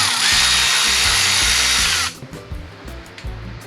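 A power tool whirs loudly and steadily for about two seconds as it loosens an alternator bolt on a 3S-GE-engined Toyota Altezza, then cuts off, leaving a few faint clinks and knocks.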